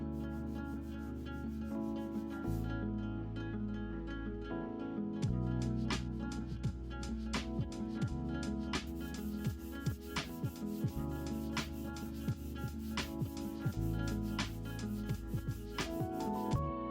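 Close-up sanding of filler and bodywork on a Ford Fiesta sill, with steady rubbing, rasping strokes repeating at an uneven rhythm and nobody speaking.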